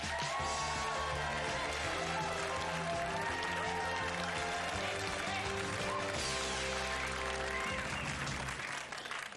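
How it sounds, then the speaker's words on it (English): Studio audience applause on the 1992 Blockbusters quiz show, rising under bright theme music and carrying on steadily before tailing off at the end. "So a big round of applause, please"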